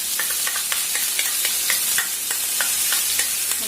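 Drumsticks and masala spice paste fry in a pan for an onion-free, garlic-free curry, giving a steady close sizzle broken by repeated soft scraping clicks of stirring at a fairly regular pace.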